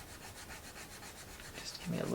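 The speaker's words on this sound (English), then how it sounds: "what I generally do on these file it down to give me a little bevel on the end here" A file rubbing back and forth across the end of a small piece for a miniature book nook build, shaping a bevel in steady, even rasping strokes, up close and fairly quiet.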